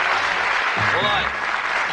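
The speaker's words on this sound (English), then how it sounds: "Give them a nice round of applause, the marvellous lads." Studio audience applause on a television game show, a dense continuous wash of clapping with a voice talking briefly over it.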